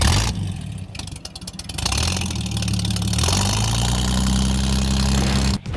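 A street rod's engine fires up at a downtown car show and settles into a loud, rough, throbbing idle with lumpy low rumble, then rises as the throttle is blipped, close and continuous.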